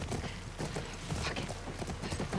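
Horse hooves clip-clop in The Last of Us Part II, a steady, close run of hoofbeats over a busy game background.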